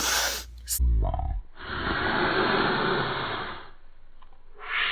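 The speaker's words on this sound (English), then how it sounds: "Sniff my snot up my nose." A sharp, wet sniff draws air up the nose, followed by a long breathy hiss of inhalation and a short voice sound at the start.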